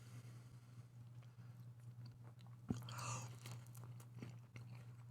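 Someone bites into BBQ pork ribs with a sharp crunch and then keeps chewing, quiet and close, with soft crunches and mouth sounds over a low steady hum.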